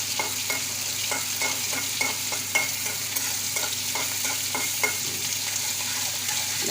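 Chopped onions sauté in a pan with dried red chillies for a moong dal and spinach kadayal, a steady sizzle under a regular scrape-and-tap rhythm of a spoon stirring, close and moderately loud, with no talking.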